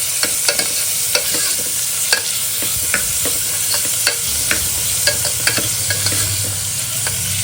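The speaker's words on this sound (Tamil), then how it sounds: "ஸோ இப்போ இதை வந்து நல்லா சாட்டே பண்ணலாம்" Onions salted and sautéed in a pan for a tomato kurma, a steady close sizzle broken by frequent sharp scrapes and taps of a stirring spoon against the pan.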